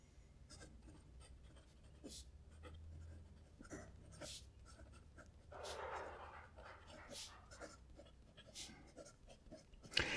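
A fountain pen with a music nib, inked with Colorverse Giant Sunspot, scratches across paper in short up-and-down and side-to-side strokes, close and soft, with faint panting or breathing in the background.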